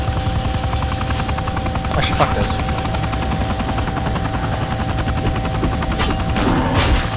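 Helicopter rotor in the video game Vivisector pulses in a steady, loud rhythmic chop throughout, with bursts of gunfire over it and someone talking briefly.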